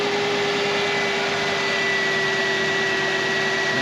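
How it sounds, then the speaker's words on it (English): A 5.0-liter V8 in a 2000 Mercedes-Benz SL500 runs at a steady idle, a constant close hum with a faint whine and no voices. "That 5-liter fires right up."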